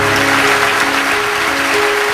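Applause from a live concert audience, a dense steady wash of clapping that fills the short clip, with a faint sustained musical tone beneath it.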